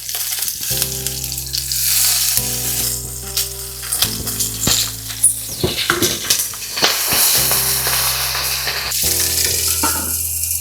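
Tomatoes char and sizzle loudly in a hot pan while cooking for beef fajitas, a steady close frying hiss with occasional crackles and stirring scrapes, no voices.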